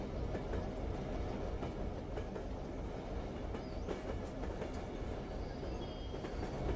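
A train runs along the track in the zombie video game Zompiercer, a constant close rumble with rolling wheel clatter and a few faint squeals, no voices.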